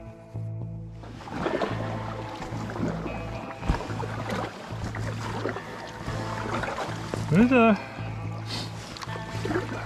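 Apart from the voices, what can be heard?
canoe paddling through a narrow autumn waterway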